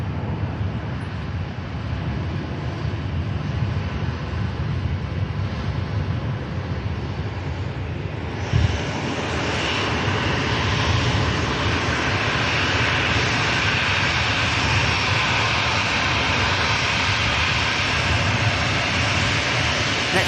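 A TUI airliner rotates and climbs out from runway 23L at Manchester Airport, its jet engines a steady roar that swells into a louder, fuller rush partway through, heard continuously from a distance.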